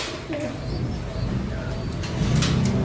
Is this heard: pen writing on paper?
no